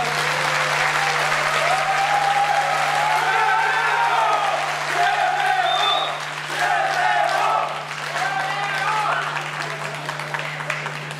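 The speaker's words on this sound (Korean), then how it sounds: "큰 박수로 맞이해 주시기 바랍니다." Loud applause from the audience at a public hearing on the Anyang FC matter fills the room, steady for most of the stretch and dipping briefly before resuming, with faint voices underneath.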